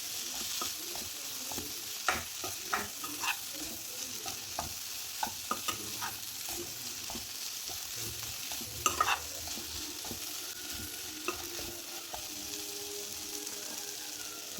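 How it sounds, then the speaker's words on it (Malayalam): Ivy gourd and potato pieces are stirred in a frying pan, with soft steady sizzling underneath and intermittent scraping clicks of a utensil against the pan at close range. "എല്ലാം കൂടി നമുക്കൊന്നുകൂടി ഇളക്കി കൊടുക്കാം."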